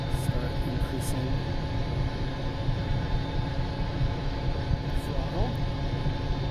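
Steady low rumble and whine of a UH-1 Huey helicopter engine in a VR flight simulator, a continuous droning hum with faint higher tones, heard close and unbroken, with brief speech over it.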